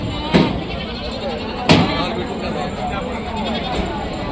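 Two loud goat bleats ring out over steady outdoor noise at a weekly livestock market, with indistinct voices murmuring in the background.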